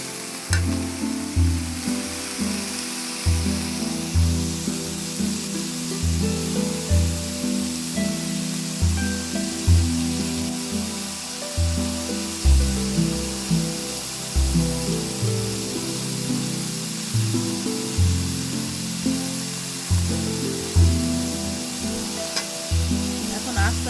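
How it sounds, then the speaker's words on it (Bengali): Shrimp fry lightly in hot oil with a continuous close sizzle, punctuated by regular scraping stirs throughout. "এখন তেলের মধ্যে ভেজে নিচ্ছি হালকা করে"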